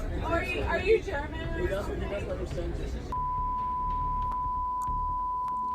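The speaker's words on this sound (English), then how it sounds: "Everything's beeped out!" Loud, overlapping chatter and talking on a train is suddenly cut by a steady censor beep tone that holds for several seconds while muffled voices continue underneath.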